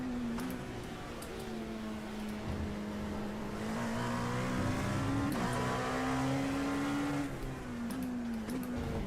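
Race car engine in the Le Mans racing game, a prototype class car faster than the GT cars, holding a steady high drone that rises and dips slightly with throttle and gear changes, loud and close throughout.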